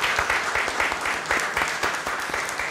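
A church congregation applauds at a Sunday service for newly installed elders and deacons, a dense, even burst of many hands clapping together that fills the room for a few seconds.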